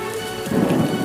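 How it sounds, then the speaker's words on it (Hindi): A sudden, heavy rain bursts over farm fields, a dense hiss of downpour with low rumbling that swells abruptly halfway through and stays loud, with no voices. "अचानक तेज बारिश शुरू हो गई।"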